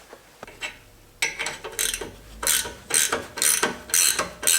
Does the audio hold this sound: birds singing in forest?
no